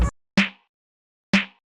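A snare sample used under a clap in lo-fi house production, played as a short opening hit followed by two separated, punchy strikes with a body-heavy low thump and bright noisy tail, dry and isolated.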